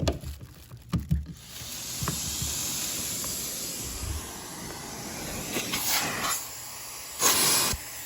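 Wire-reinforced central vacuum hose plugged into a wall valve, a steady loud airy hiss of suction running throughout, with clunks and knocks of the hose fitting at the start and a few louder bursts later.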